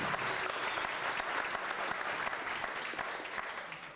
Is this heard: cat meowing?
no